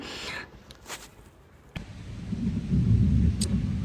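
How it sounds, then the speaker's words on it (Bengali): Rain sets in with low rumbling thunder, quiet at first, then a sudden jolt near the middle and a steadily louder, deeper rumbling toward the end. "বৃষ্টির দেখা মিলতেছে"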